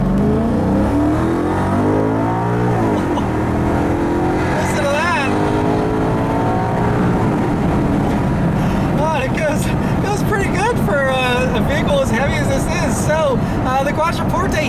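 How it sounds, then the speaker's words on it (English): A 2008 Maserati Quattroporte Sport GTS with a Ferrari-derived 4.2-liter V8 accelerates in sport mode with its exhaust flap open, engine note climbing through gears on a back road, steady and loud beneath someone talking throughout. "we're gonna put it into the sport mode here, which actually opens up a flap in the exhaust to make it louder"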